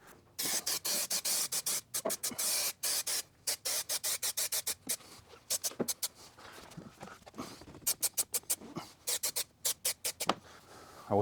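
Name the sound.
spray can spraying on leather door card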